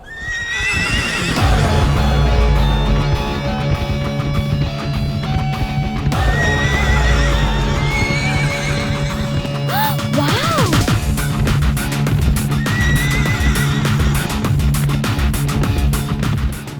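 Several horses neigh and whinny, with galloping hoofbeats pounding throughout a loud, busy race scene; no voices.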